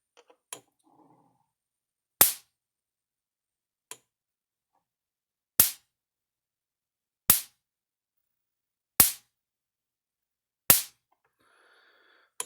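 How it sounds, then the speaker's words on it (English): Cyclops electric fence charger snapping a spark onto a screwdriver tip, six sharp loud cracks at a regular pace about every two seconds, with near silence between. "So you can see how much of a spark it throws."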